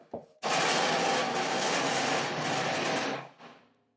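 A shelf-pin hole boring machine: a loud, steady machine roar starts abruptly after a brief knock, runs for about three seconds at full volume, then cuts off and winds down.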